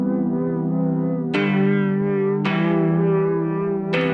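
A guitar played through a chorus effect with the depth turned up for a soft indie tone, the sustained chords wobbling and warbling in pitch, with three strummed chords ringing out loud and alone.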